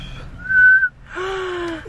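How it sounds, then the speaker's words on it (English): A child whistles indoors at close range: one short, steady high note, then after a brief pause a breathier, wavering second attempt, loud and clear with no talking over it. "He knows how to whistle."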